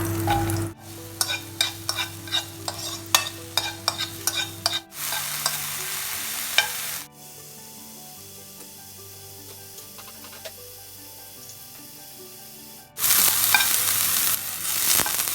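Mushrooms fry in butter in a pan while being stirred. Rapid utensil clicks and scrapes come first, then bursts of sizzling, a quieter stretch, and a loud, steady sizzle at the end.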